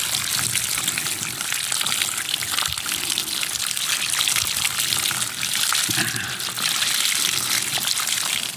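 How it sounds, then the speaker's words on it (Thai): Water bamboo grass stems rinsed one bunch at a time under running water to wash off the soil, with a steady, fairly loud gushing and splashing stream throughout and no talking. "ล้างทีละช่อนะครับ ล้างเอาดินออก"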